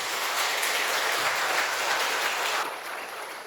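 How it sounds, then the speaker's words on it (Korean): A congregation applauds inside Hwaeomsa temple on Jirisan during a Buddhist New Year ceremony and dharma assembly: a steady, dense wash of clapping that holds evenly, then thins and fades slightly near the end. "박수를 한번 부탁드리겠습니다"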